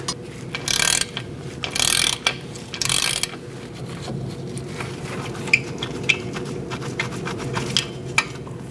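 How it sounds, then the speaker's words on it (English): A ratchet removing a bolt on the rear brakes of a 2006-2011 Chevrolet HHR: three short hissing bursts, then a run of crisp, spaced clicks as the ratchet is worked close up. "I'm going to remove that bolt and do the same on the other one."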